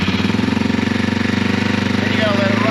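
A Yamaha TW200 motorcycle engine idles fast with the choke pulled after a cold start outdoors, a steady close, loud, rapid single-cylinder putter that runs without a break.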